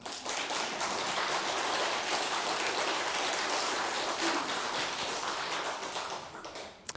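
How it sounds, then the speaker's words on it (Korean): Steady applause from the congregation at a Buddhist dharma service, with dense, sustained clapping that swells quickly, holds for several seconds and then tapers off near the end. "박수 좀 쳐요."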